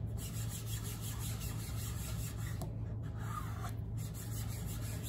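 A stencil is burnished onto a small wooden board, making a continuous scratchy rubbing sound with brief pauses, close up over a steady low hum.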